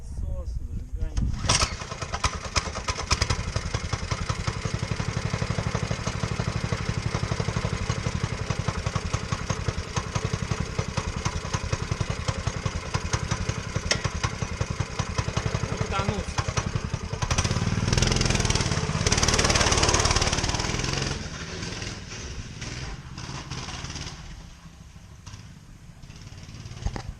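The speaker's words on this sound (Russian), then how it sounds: "Включаем подсос, зажигание." Motoland RT200 motorcycle engine started on choke after fresh oil, catching quickly and settling into a loud, rattly steady idle close by, easing slightly toward the end.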